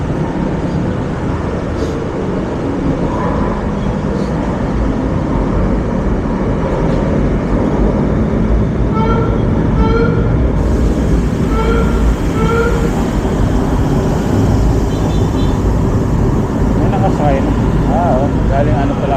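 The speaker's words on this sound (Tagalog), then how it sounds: "Ayan na ang train." A train rumbles past steadily and loudly for the whole stretch, with rhythmic clacking of wheels over rail joints in the middle and a faint squeal near the end, heard up close outdoors at sunrise.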